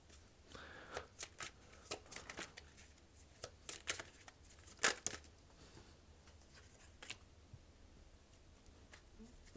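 Tarot cards drawn and handled close by, with soft, quiet shuffles, slides and crisp flicks in irregular bursts, one sharper snap standing out midway and the rest fading to a light patter against a faint room hum.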